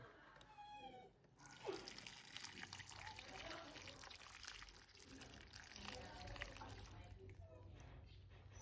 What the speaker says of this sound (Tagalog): Lagyan ko ng sabaw.